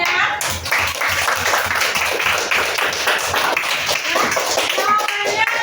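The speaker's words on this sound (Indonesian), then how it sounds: "Tepuk tangan untuk anak ibu semuanya" Schoolchildren in a classroom clap together in a lively, loud burst with distinct rhythmic slaps that carry on for several seconds, with voices mixed in.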